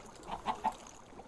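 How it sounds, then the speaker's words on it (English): Chickens in the Minecraft Better Than Wolves mod give three short clucks in quick succession, fairly faint against quiet game ambience. "I probably need to move the chickens."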